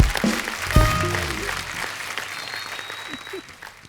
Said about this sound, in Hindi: जोरदार तालियां एक बार राज सर और जया मैम के लिए।